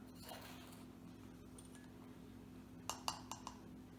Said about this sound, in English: we're going to spoon this into a little jar